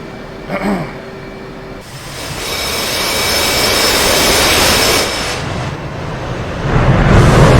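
F/A-18C jet engines spooling up for takeoff in DCS World, a rising roar with a high whine that swells and holds, preceded by a brief click and followed by a louder surge at the end.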